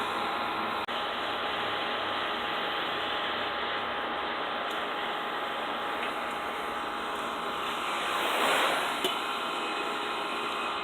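A propane torch flame heats copper pipe for soldering a tee fitting, giving a steady, close, even roaring hiss that holds throughout and swells briefly near the end.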